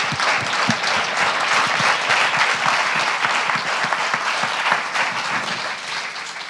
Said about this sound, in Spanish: Un aplausazo.